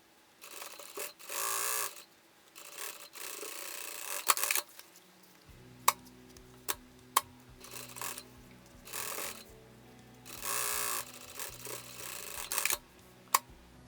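Sewing machine running in short bursts while stitching the side seams of a fabric bucket bag, close by, with stops and small clicks between runs and a low motor hum after the first few seconds.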